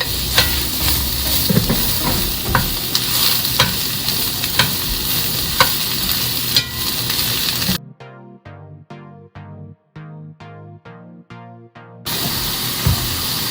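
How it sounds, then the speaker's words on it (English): Onions and mushrooms fry in a skillet for beef stroganoff, giving a steady, close sizzle broken by scraping stirs, then a stretch of rhythmic tonal pulses before the sizzling resumes. "In the same skillet, turn it down, but we're going to add the onions and mushrooms."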